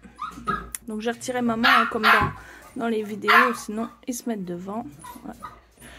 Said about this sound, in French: si vous entendez aboyer, c'est mes petits bébés chochos.